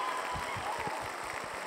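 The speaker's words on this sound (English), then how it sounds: "that's a 36-second clap track" Recorded applause played as a clap track, a dense, continuous burst of many hands clapping at a steady loud level with faint crowd murmur underneath and no talking.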